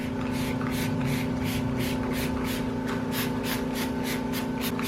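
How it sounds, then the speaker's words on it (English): Repeated spritzes of SuperClean cleaner sprayed onto car carpets during an interior detail, each short hissing burst following the last in a quick steady rhythm over a constant background hum. "spraying the cleaner"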